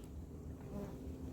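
Firetail resin bees at a native Australian bee hive, a steady close buzzing hum that runs through the whole moment with no talking.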